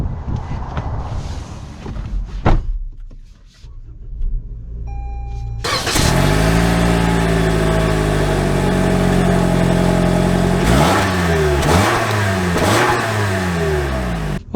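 A 2023 Toyota RAV4 TRD Off-Road fires up after a few quiet seconds of cabin handling, then its engine holds a loud, steady drone with rising revs and distinct gear-change dips as the car pulls away.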